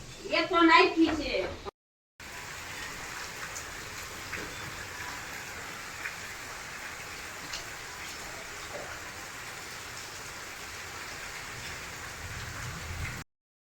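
Gentle, slow rain patters steadily on surfaces for over ten seconds, a soft continuous hiss, preceded by a brief burst of voices before a short gap.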